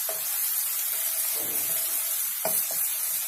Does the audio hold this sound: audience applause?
no